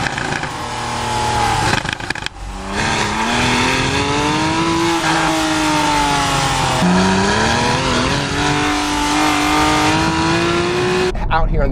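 Porsche 911 GTS engine revving high on country roads, a loud sustained climbing engine note with shifting pitch and a brief break near the start, while someone talks over it throughout.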